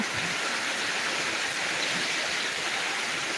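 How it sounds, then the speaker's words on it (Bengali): Heavy downpour in Dinajpur beating steadily around a house, a dense continuous hiss of rain with no pauses, loud and close, without any talk. "দেখতে পাচ্ছেন কেমন জোরে বৃষ্টি হচ্ছে"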